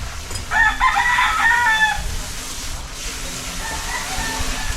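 A rooster crows loudly and nearby in a drawn-out call, with faint talk and outdoor background noise around it.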